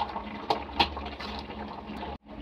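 Boiled taro leaves (kochu shak) stirred in a cooking pot, a soft wet sloshing and bubbling with two brief clinks of the spoon against the metal, close and steady before a sudden short drop to quiet near the end.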